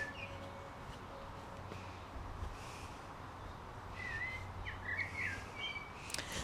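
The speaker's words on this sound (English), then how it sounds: "I think the blackbird agrees." A blackbird sings faintly outdoors, its short whistled phrases coming near the end over a steady background hiss.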